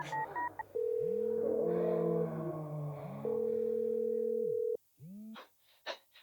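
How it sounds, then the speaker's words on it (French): A mobile phone dials a contact at night, giving a few short keypad beeps followed by long, steady ringback tones, then a brief pause and some faint rustling. "Il attrape son téléphone sur la table de nuit et sélectionne Jean, dans le répertoire."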